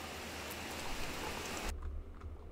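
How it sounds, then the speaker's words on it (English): A rain sound sample swells within an electronic music track, a dense hiss of rainfall that holds steady and then cuts away abruptly, leaving a low rumbling bed beneath. "we just have some more rain swelling in"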